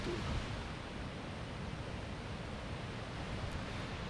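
A constant rushing roar of falling water, broad and steady throughout with no other sounds standing out.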